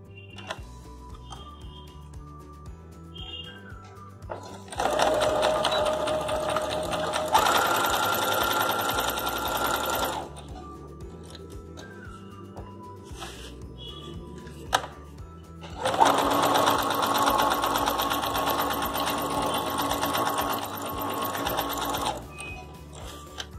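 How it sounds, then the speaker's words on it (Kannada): A sewing machine stitches two saree border pieces together for a beaded bridal potli kuchu design. It runs steadily in two long, close bursts with quiet pauses before, between and after them. "ಒಂದು 2 ಸತಿ ಸ್ಟಿಚ್ ಹಾಕೊಂಡು ಜಾಯಿನ್ ಮಾಡ್ಕೋಬೇಕಾಗುತ್ತೆ"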